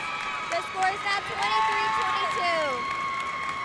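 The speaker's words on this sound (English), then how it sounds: "The crowd's going wild." A crowd cheering at a volleyball match, a steady roar of voices filling the hall with some clapping, while whistle-like tones and a commentator's talk sound over it.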